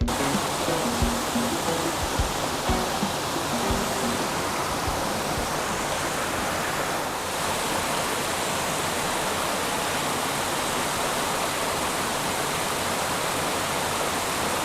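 Waterfall on Mount Isabel de Torres in the Dominican Republic, a loud, steady rush of falling water filling the whole stretch, with a few faint low thumps early on.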